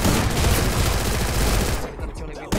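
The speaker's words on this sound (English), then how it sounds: "shotgun." Dense, sustained volley of shotgun blasts in an online shooter match, loud and continuous with little gap between shots, thinning out briefly near the end before another burst.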